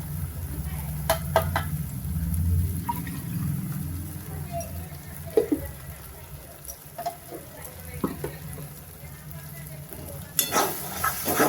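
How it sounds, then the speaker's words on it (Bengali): Spice paste with mustard and cashew being stirred in a pan: a low frying hiss under scattered sharp scrapes and clinks of a spoon against metal, close by, with a voice speaking over it early on. "ভালো করে আমি মশলাটাকে কষাবো"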